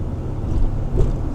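A Chevy 454 tow rig engine drones low and steady on a test drive, a close, continuous rumble with slight swells and no voices.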